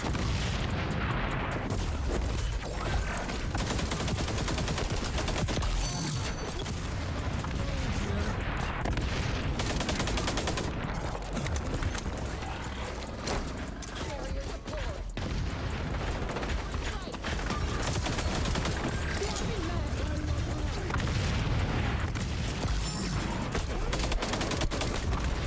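Dense video-game gunfire from a shootout with two snipers, a busy stream of shots, booms and clatter running throughout, loud and close, with a player's voice talking over it.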